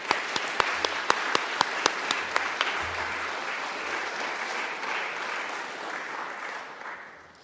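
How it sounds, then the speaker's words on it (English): A lecture audience at the Colin Clark Memorial Lecture applauds a talk. A few sharp claps start it, then it swells into dense, sustained clapping from a large hall that fades out near the end. "I'd ask everybody to give Stephen the appropriate applause for a great talk today"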